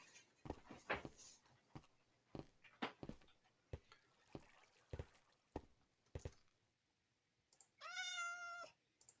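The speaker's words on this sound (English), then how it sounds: "Yeah, I hear a cat." A cat meows once, briefly, in the Minecraft video game, following a run of sharp scattered clicks and taps; the meow is a clear rising-falling cry near the end.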